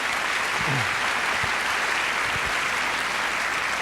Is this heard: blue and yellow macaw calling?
no